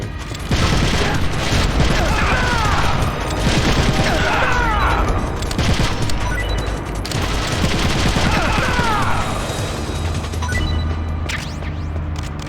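Rocket launcher fire and explosions in the game Metal Gear Solid: The Twin Snakes during a boss fight, a series of loud blasts and rumbling impacts with gunfire-like crackle, plus a brief voice.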